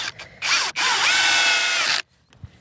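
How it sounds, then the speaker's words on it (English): A power drill drives a screw into a wooden stair step on an outdoor hillside staircase, a loud sustained whir of about a second and a half after a brief start burst, then stops abruptly. "Screwing in."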